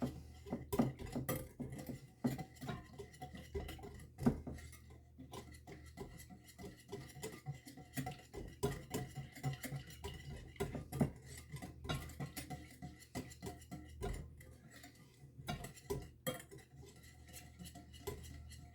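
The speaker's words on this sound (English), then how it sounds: "I'm going to give this a little whisk to combine the ingredients" A whisk rattles steadily against a bowl while tofu scramble ingredients are beaten together, producing rapid metallic clinks and scrapes at close range, quiet overall and with no talking.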